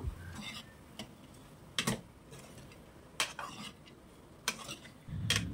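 A spoon stirs bottle gourd and soaked chana dal in a pan, giving a handful of sharp clinks and scrapes spaced about a second apart, with a soft sizzle in the background.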